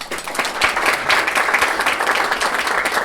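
Loud, sustained applause from an audience at a health leadership council launch and founders summit, a thick wash of many hands clapping at once with no speech over it.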